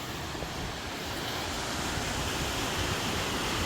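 Ocean surf pounding a sandstone beach below crumbling cliffs at Scripps Beach in San Diego, a steady broad roar of breaking waves that stays loud and continuous throughout.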